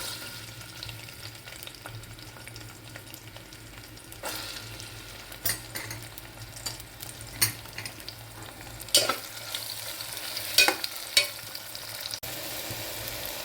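Chopped onions and green chilies fry in hot oil with a soft, continuous sizzle, broken by occasional louder stirring scrapes and clinks of a spoon against the pan toward the end.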